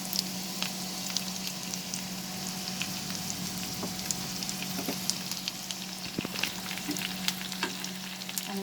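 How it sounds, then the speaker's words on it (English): Onions frying in the oil left from frying prawns, for a prawn and sponge gourd curry: a steady, close sizzle and crackle with occasional sharper pops, continuing without a break. "Now in that same oil, I'm going to add the onions."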